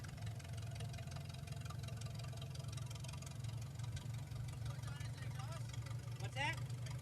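A 1950 Farmall M tractor engine runs steadily at a threshing show, a low, continuous rumble with a faint mechanical knock throughout, while voices speak nearby over it.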